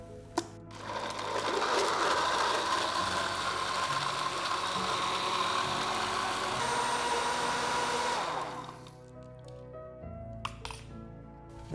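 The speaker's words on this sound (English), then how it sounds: "And all we do now is blend." A blender whirs loudly for about eight seconds as it mixes an orange protein smoothie with water and ice, its grinding, rattling tone holding steady before it stops. A few clinks and knocks follow.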